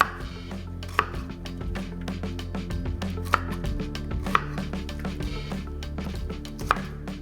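A knife chops Brussels sprouts on a board in a kitchen, the sprouts being halved or quartered. Steady cutting knocks repeat throughout, with a few sharper louder strikes standing out over a continuous low background hum.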